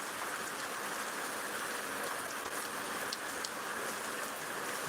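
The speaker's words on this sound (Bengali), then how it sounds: "বৃষ্টি হালকা রয়েছে আরও কমে যাবে হয়তো" Light rain falls steadily as a soft, even hiss with no voices and a few faint drip ticks, fairly quiet and unchanging throughout.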